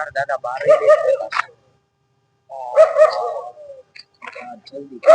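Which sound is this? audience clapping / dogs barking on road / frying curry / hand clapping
dogs barking on road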